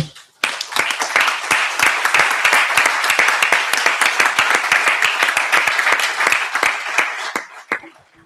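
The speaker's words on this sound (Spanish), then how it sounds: "Después de este aplauso a Francisco Salgado" Sustained audience applause in a hall at a philosophy congress, dense rapid clapping from many hands starting abruptly, holding loud and steady, then thinning out at the end.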